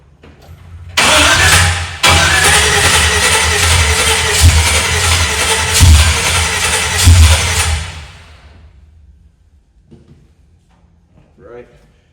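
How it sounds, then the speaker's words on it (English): A car with a customer's rebuilt carburetor cranks and fires, then runs roughly at high volume for several seconds with uneven revs before shutting off. Brief voices and clatter follow in the quiet afterward. "We wanna see how close it is to starting up."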